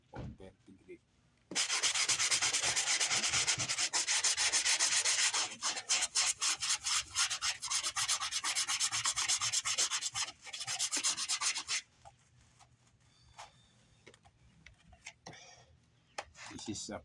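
Coarse 40-grit sandpaper scraping hard across a plastic car bumper during a paint repair, a loud continuous rasping run of rapid back-and-forth strokes that stops abruptly, followed by quieter handling noises.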